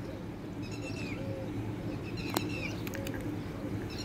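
Faint bird calls and chirps over a low background hum, a few short cooing notes and a sharp click in the middle.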